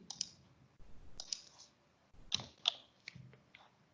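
A few isolated keyboard key clicks at close range while using the JOSM map editor, sharp and light with small mechanical ticks between, in an otherwise quiet room.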